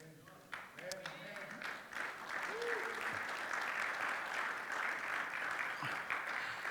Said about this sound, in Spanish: Si ese aplauso fue para el Señor, dáselo más fuerte